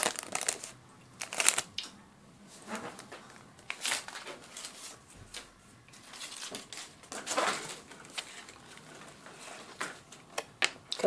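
A Pokémon trading card booster pack being torn open and handled, with crinkly foil rustling and cards shuffling in irregular close bursts, no talk.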